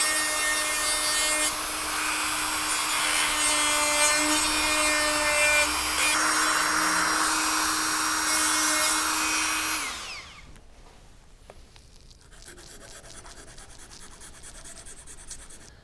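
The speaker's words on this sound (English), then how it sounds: "I'm going to use a Dremel tool on this, and then I might switch to sandpaper" A Dremel rotary tool grinds the ridges off a motorcycle throttle tube on a Kawasaki Ninja 1000, a steady high-pitched whine close up that runs for about ten seconds, then winds down and stops, leaving faint scraping and handling noises.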